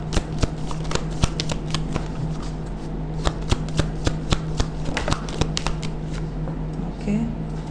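Tarot cards are drawn and shuffled by hand during a reading, a steady close riffle of papery flicks with sharper snaps, plus a low steady hum beneath.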